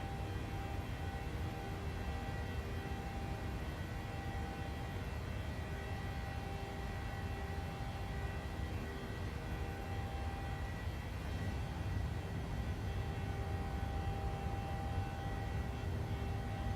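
Jet engines of a PMDG 737-600 at takeoff thrust in the MSFS 2020 flight simulator game give a steady, loud, droning roar with constant whining tones that hold evenly throughout.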